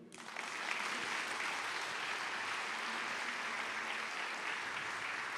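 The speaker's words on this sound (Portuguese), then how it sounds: "Pode aplaudir." Sustained applause from a church congregation during a Brazilian worship program, a dense steady wash of clapping that swells in within the first half second and holds evenly, with faint tonal hum underneath.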